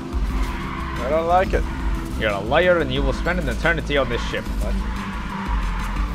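Cars skid in a video game, heard as a steady engine rumble under repeated rising and falling tire squeals that bunch up between about 1 and 4 seconds. Several people talk loudly over the squeals.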